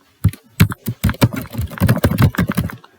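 Close, crisp typing on a computer keyboard while entering text in a Linux terminal editor: a quick, uneven stream of distinct keystrokes that is loud and clear with no talk.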